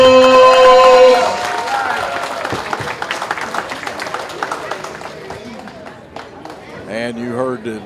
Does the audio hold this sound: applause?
yes